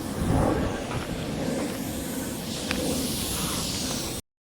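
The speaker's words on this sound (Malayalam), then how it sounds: "ഒരു ഫ്ലൈറ്റ് പോകുന്നതാണ് ഗൈസ്." A steady broad roar of an airplane passing overhead at Kovalam, Kerala, moderately loud and continuous, with faint outdoor background noise.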